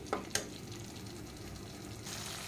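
Ground cumin and spices frying in oil in a pan for a paneer dish, with a faint low sizzle and a couple of sharp clinks of a utensil near the start.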